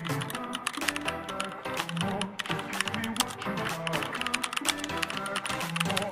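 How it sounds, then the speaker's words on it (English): Rapid typing on a computer keyboard, a dense close run of light clacking keystrokes with a few sharper key presses, steady and unbroken throughout with no talking. "Let's type continue again and press enter."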